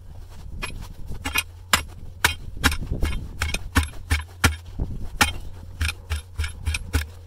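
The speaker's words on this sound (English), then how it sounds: "Now I'm wondering if we give this a whack" A wind turbine tower base is whacked repeatedly to straighten it, giving a run of sharp metallic hammer blows in an irregular rhythm, close and fairly loud, over a steady low hum.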